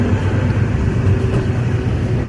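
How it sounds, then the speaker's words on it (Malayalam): A train passes on a nearby railway, a loud, steady low rumble that fills the whole moment and dominates with no talk over it. "ഒരു ട്രെയിൻ പോകുന്നുണ്ട് കേട്ടോ"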